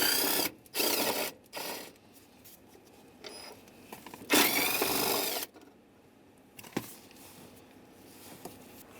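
Two 10mm bolts come off a hood release handle on a 2003-2011 Honda Element, with short bursts of ratchet clicking and bolt turning, a longer run in the middle, and quiet handling noises between them.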